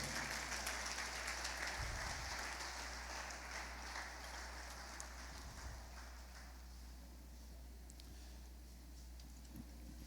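A church congregation applauds during a sermon, faint, distant clapping that starts fairly full and gradually thins and fades.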